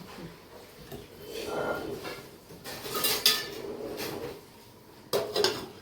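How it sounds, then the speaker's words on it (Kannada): A lid goes onto a pot of ragi mudde (finger millet dough) in a kitchen, with a couple of metallic clanks and clatters of cookware, close and fairly loud against quiet background. "ಇದಕ್ಕೆ ಒಂದು ಮುಚ್ಚಳ ಮುಚ್ಚಿಬಿಡ್ತೀನಿ"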